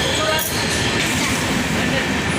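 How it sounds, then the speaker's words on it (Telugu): Onboard rumble of a crowded special general-class train travelling to the Kumbh Mela, a steady loud rolling drone of wheels and carriage noise, with faint voices in the compartment. "సో మేము వెళ్తున్న ట్రైన్ చూడండి."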